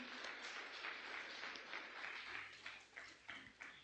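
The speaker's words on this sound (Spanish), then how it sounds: "Dale un fuerte aplauso al Rey." A church congregation gives a burst of applause during a Spanish-language service, dense clapping that carries through and then thins into scattered separate claps toward the end, fairly faint.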